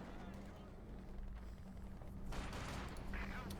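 Gunfire in a Company of Heroes 2 battle, rapid bursts of shots rattling over continuous low rumble of combat, moderately distant, with a louder volley near the end.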